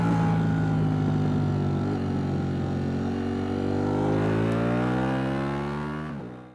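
A Ducati motorcycle engine in sport mode revs loud and close, its rising engine note climbing steadily over several seconds with a brief gear-change dip before cutting off at the end.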